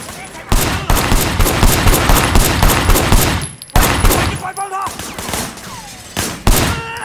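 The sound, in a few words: gunfire in the video game Sleeping Dogs: Definitive Edition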